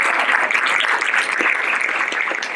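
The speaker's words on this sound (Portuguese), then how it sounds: "se você quer aplaudir, pode aplaudir a ele." A church congregation breaks into continuous applause, a bright, dense wash of many hands clapping at a steady volume, alone without speech.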